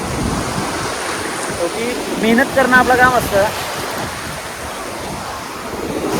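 Rough sea waves crash and surge in stormy, windy weather during net fishing from the shore. They make a constant loud roar with a stronger swell midway, while someone talks over it.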